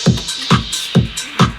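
EDM production loop with a deep bass line and a plain drum pattern, steady kicks on a regular beat with hi-hats riding above, about four bars' worth of pulses in a short loud stretch with no voices.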